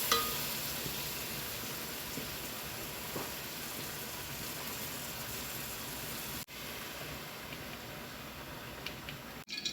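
Chicken pieces fry in a pan until golden brown, giving off a steady, close hiss of oil that carries on evenly, broken only by a couple of brief cuts.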